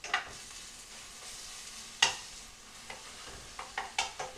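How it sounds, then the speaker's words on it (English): A pound of ground beef fries in a pan with a low sizzle, broken by sharp spatula scrapes and clinks, a few clustered near the end. "I'm cooking 1 pound of ground beef."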